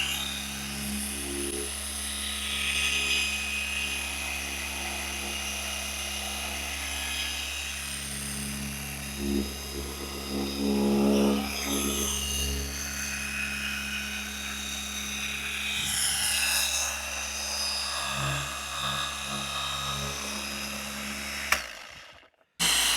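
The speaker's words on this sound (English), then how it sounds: "This polisher is so quiet and there's no vibration at all." A Rupes HLR75 polisher runs at speed with a continuous, steady motor whine and hum that holds for most of the clip before cutting off abruptly near the end.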